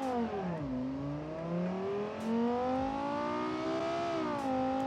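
A high-revving Lamborghini Huracan engine in a video game whines up and down through the gears, steady and loud, with a synthetic game-like tone.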